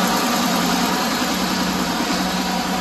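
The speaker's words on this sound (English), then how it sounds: "good running tractor" A John Deere 4450 tractor engine runs steadily at idle, a constant dense rumble with a hum and no talk, holding even level throughout.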